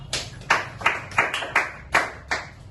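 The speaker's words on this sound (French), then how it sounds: "On peut applaudir pour les trois." A small audience gives a short round of applause at a presentation on body-care treatments, seven sparse, distinct claps in a quiet room, fairly faint and without voices.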